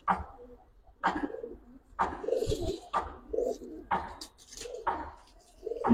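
Giribaz pigeons of an old line, a silver-patterned cock and a black-necked hen, coo in repeated throaty bursts about once a second, close by and fairly loud, with soft chirps between calls.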